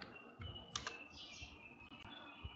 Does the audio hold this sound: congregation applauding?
no